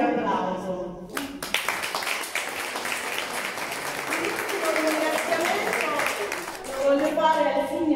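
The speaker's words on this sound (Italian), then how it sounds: "Dunque un grande applauso." An audience at a Christmas show breaks into applause, a sustained wash of clapping that starts abruptly after a brief voice and continues steadily, with talk and other sounds mixed in near the end.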